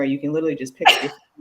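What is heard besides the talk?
sneeze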